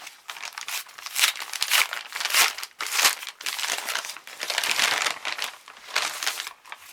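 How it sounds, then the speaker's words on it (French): A large paper letter from a grandmother is torn open and unfolded up close, with bursts of crinkling, rustling and tearing paper in an uneven rhythm, no talking. "Voilà, une grande lettre de mamie. Donc je vais ouvrir ça."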